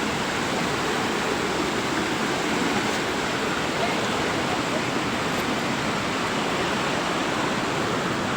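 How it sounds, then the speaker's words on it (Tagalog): A waterfall at Querocep Falls roars as a steady, dense wash of rushing water, loud and unbroken throughout with no distinct voices. "Pangalawang falls."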